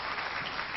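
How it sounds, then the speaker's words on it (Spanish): Brief burst of audience applause for a guest at a book presentation in Lima, Peru, a dense, fairly faint wash of clapping lasting under a second. "Y un fuerte aplauso para él."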